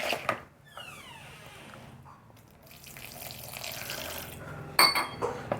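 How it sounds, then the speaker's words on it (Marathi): Water is poured a little at a time into batter for coating aubergine, a trickling and splashing sound alongside soft clinks of a bowl and spoon, moderately close, with no talk. "पाणी टाकून ना याचं एक मस्तपैकी ना पहिले बॅटर तयार करून घेऊ आपण."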